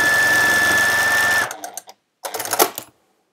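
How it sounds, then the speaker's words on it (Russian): A sewing machine stitches fabric selvedge edges for a patchwork card, running in a steady close whir for about a second and a half, then stopping, followed by soft handling clicks and a brief rustle. "я шью вот до этого края"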